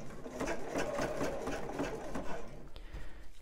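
A sewing machine runs steadily, stitching the band of a bra in a fairly close, continuous whir that slows and stops near the end.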